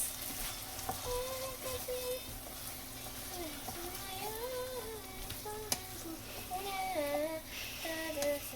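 Chickpeas frying and being stirred in a pan while eggs for huevos rancheros are prepared, a steady sizzle with scraping stirs running under a person talking over background music.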